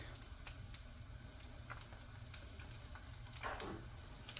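Eggs frying in a greasy pan alongside beef, bacon and sausage, giving a steady, close sizzle and crackle with small pops throughout, no voices.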